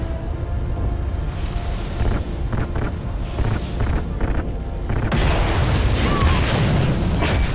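Gunfire and explosions in Call of Duty: Ghosts, set in space, a continuous heavy rumble with dull thuds and booms that swell into a louder, roaring blast near the end, with voices faintly underneath.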